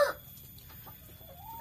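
Laying hens in a small backyard coop give one short, fairly loud cluck at the very start. Fainter farmyard murmurs and a brief rising call follow against quiet background noise.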